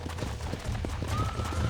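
Horse hooves clip-clop at a gallop in the Red Dead Redemption video game, a steady rapid drumming under a dense game soundscape with a brief whinny-like tone rising through it.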